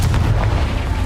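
A Confringo fire spell from Hogwarts Legacy bursts with a heavy, booming low rumble that fills the short moment, loud and close with no break.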